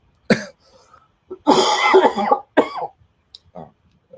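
Several close, loud coughs come in a quick burst over about three seconds, with a throat-clearing quality and silence between them.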